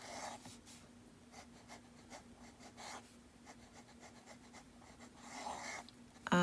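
A pen writes a cursive letter V on paper, giving soft, faint scratchy strokes in a short irregular series, close by and quiet over a steady low hum, with a louder knock right at the end.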